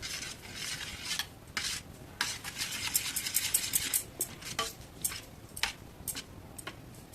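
Metal spoon stirring and scraping through payasam in a pan as ghee and dry fruits are mixed in, with steady clinks and scrapes and a soft sizzle, close and fairly quiet.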